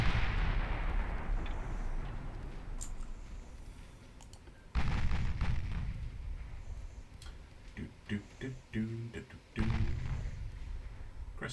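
Warship 8-inch casemate guns firing in Ultimate Admiral Dreadnoughts, heavy booming salvos with long rumbling tails, a big blast at the start and more around the middle and end, with faint clicking in between and voices at times.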